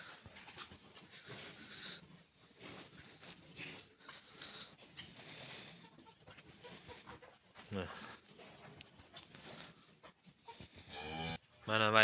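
Cows in a barn holding about forty head of cattle give drawn-out moos at varying distances, one louder call rising near the end, while people talk and other farm noise carries in the background.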